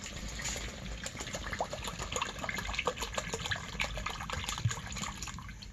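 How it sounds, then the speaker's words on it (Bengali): Half a litre of milk pours into cooked palm fruit pulp with a continuous liquid gush and bubbling trickle, close and steady throughout, light clinks now and then. "এখানে হাফ লিটার দুধ আছে দুধটা দিয়ে দিই"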